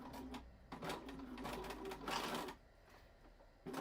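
Domestic sewing machine running a long basting stitch through denim for a jeans pencil case, in several bursts of rapid whirring and clatter with short pauses between runs.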